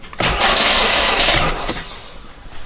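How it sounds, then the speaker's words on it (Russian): An Audi A8 D3 engine with a knocking and crackling fault cranks with a loud, rough whir for over a second, then settles into a quieter rumble. "Что, пробуем заводить еще раз?"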